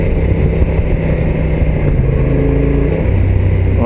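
A Honda NT1100 DCT motorcycle engine held around 2200 rpm and starting to accelerate gives a steady, close, loud drone with low harmonics that shift slightly in pitch.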